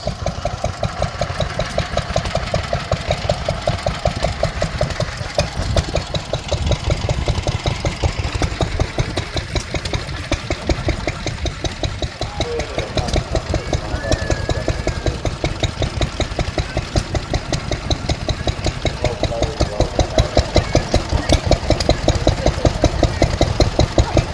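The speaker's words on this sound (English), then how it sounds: "We have the stationary engines behind here, the stationary engines." Old stationary engines, some pre-war, including a Bamford, chug steadily at idle at an outdoor show, a dense rhythmic thumping and popping that carries on without pause, loud and close.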